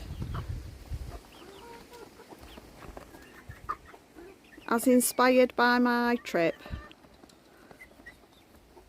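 Chickens in a chicken shed, with several loud, close clucks and squawks bunched in the middle and someone talking before and after.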